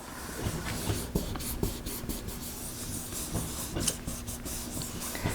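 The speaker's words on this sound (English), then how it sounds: "you're gonna wanna rub really well." A hand rubs a sheet of paper firmly over an inked gelli printing plate, giving close, steady dry scuffing strokes in a quick repeated rhythm with no voices.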